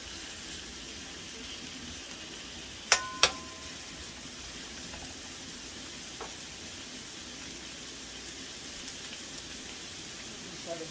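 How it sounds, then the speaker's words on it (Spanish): Vegetables brown in a pan for a pork trotter stew, giving a steady, even sizzle that runs the whole time, broken by two sharp clicks early on. "Vamos a dejar que esto se dore bien."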